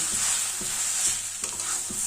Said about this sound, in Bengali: এবার এই পোস্ত গাজরের সঙ্গে ভালোভাবে মিশিয়ে দিচ্ছি